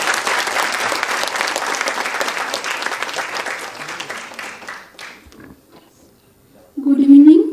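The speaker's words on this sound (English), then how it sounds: "So can we have a round of applause for Mampi?" Audience applause at an international conference's valedictory session, a steady crowd clapping for about five seconds that tapers off, followed by a person starting to speak.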